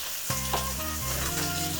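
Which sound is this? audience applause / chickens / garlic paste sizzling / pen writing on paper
garlic paste sizzling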